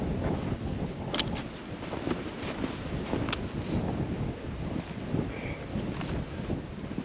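Steady, loud wind gusts buffeting the microphone in cold, snowy mountain woods, a continuous rough roar with no voices.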